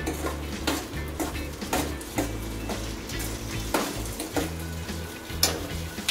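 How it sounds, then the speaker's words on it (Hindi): Maggi noodles sautéed and stirred in a pan, with rhythmic metal-on-pan scrapes and clinks every half second or so over a steady close sizzle and a low background hum. "तो गाइस अभी हम लोग इसको थोड़ा सा सॉटे कर लिया है हमने."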